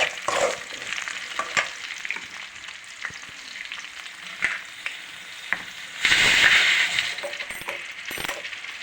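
Onions sizzle in hot oil with mustard seeds and cumin, a steady crackling fry broken by clinks and scrapes of a spoon against the pan, with a louder hissing surge near the end.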